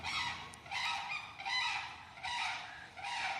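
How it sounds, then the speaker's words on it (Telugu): Large birds at Nehru Zoological Park, Hyderabad, honk and call loudly in a repeating series of harsh bursts, slightly distant, with no talking. "అటు సైడ్ ఏవో పెద్ద పెద్ద పక్షులు అనుకుంటా బాగా అరుస్తున్నాయి"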